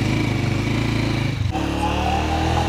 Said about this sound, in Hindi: बस जल्दी से बाइक को स्टार्ट करते हैं